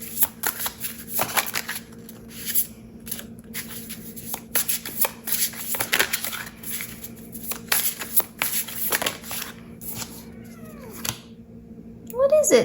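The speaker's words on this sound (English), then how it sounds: "Can you guys hear her meowing?" A cat meows faintly, with a few soft calls in the background and a clearer one near the end, while someone talks and tarot cards shuffle and tap close by.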